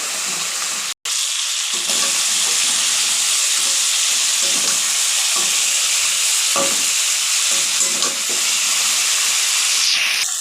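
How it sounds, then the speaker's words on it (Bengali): Crabs sauté in a hot pan, a continuous loud sizzle and hiss with repeated scraping pulses as they are stirred, with no voices. "তারপর কাঁকড়াগুলো দিয়ে দেবো। দিয়ে এইভাবে আরও খানিকক্ষণ কষে নেবো ভালো করে।"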